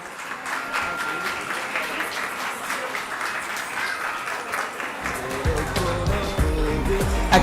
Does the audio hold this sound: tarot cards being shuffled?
no